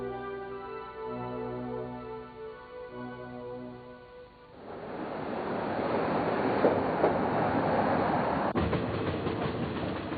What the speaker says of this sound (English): To go round the 7 cataracts, you need to take a train through the forest.